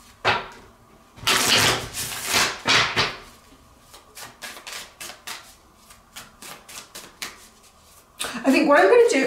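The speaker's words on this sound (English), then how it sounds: "I'm going to shuffle out the cards" A Wild Unknown Animal Tarot deck being shuffled by hand, a run of loud riffling bursts followed by softer, quick card snaps and taps, close up.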